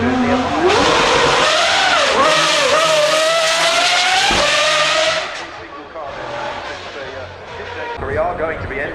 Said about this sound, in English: I believe it is the Lotus Evija, yes, making its way up